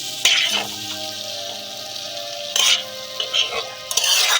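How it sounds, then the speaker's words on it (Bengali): Chili, coriander and cumin powders fry in oil over a low flame as a spoon stirs through them, giving a steady close sizzle with scraping bursts of stirring and no talking. "তিন 4 মিনিট ধরে এটা আমি নাড়াচাড়া করে নেব। এটা কিন্তু আমি লো ফ্লেমে ভাজতে থাকবো।"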